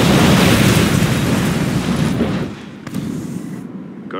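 Heavy bombing-run explosions from the real-time strategy game Command & Conquer 3: Tiberium Wars roar loudly for about two seconds, then fade into a thinner rumble with a couple of smaller bursts before cutting out.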